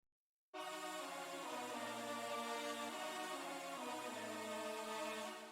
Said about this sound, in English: I'm just outlining the chords.